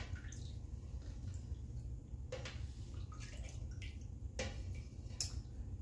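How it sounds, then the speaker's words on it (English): Cotton yarn stirred in a dye bath in a home kitchen makes faint, scattered sloshes and drips over a low, steady background hum. "There's a lot of stirring involved in dyeing, especially cellulose fiber."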